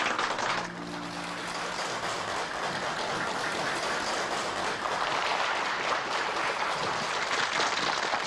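An audience claps steadily through a dense, unbroken wash of applause welcoming a Zhuang woman singer onto the stage at a Guangxi youth singing contest, with no talk over it.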